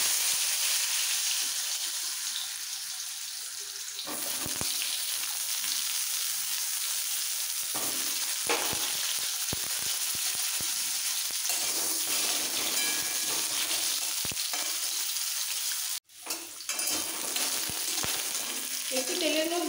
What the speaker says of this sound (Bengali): তেল গরম হয়ে যাওয়ার পর এর মধ্যে আলুগুলো দিয়ে দিচ্ছি।